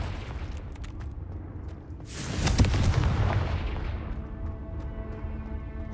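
Confringo spell in a wizard video game, a sudden loud booming explosion that swells for about a second and then fades into a long rumbling tail.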